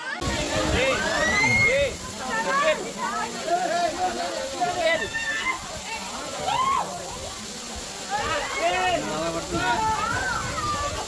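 Katika waterfalls near Araku rush with a constant broad roar of falling water, heard close and fairly loud beneath continuous chatter from several people.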